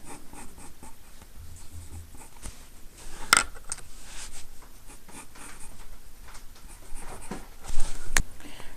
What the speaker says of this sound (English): we're going to draw a block letter in there.